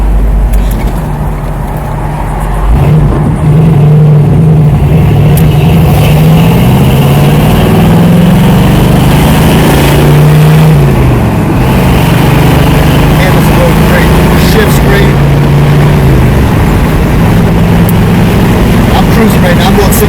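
A 1979 Pontiac Trans Am engine drones loudly and steadily while driving at highway speed, its pitch rising and falling slightly amid road and wind roar, with occasional talk inside the car.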